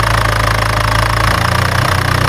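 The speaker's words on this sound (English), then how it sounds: "Tractor test successful." A homemade mini tractor engine runs loud and close, holding a steady throbbing drone that dips slightly in pitch partway through, with no talk over it.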